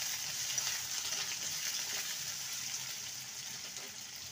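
Small pieces of potato fry in hot oil, giving a constant, even hiss of sizzling with soft bubbling underneath, moderately close and uninterrupted.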